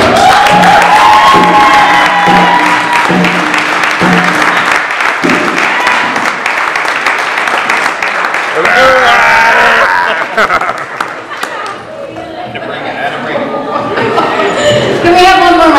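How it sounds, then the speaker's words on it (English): Audience applause and cheering at the Bronx Museum, a loud continuous roar of clapping and voices filling the room, with a shouting voice carrying over the crowd throughout. "Can we have one more round of applause?"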